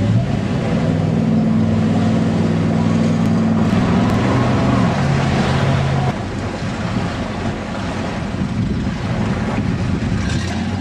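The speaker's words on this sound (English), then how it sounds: "A jab on the throttle by my 13-year-old daughter to give some extra push, and out of the water comes the boat" A propeller jet boat's engine drones loudly and steadily as the boat is driven out of the water onto a sandy beach, with a throttle surge and wind rumble on the microphone.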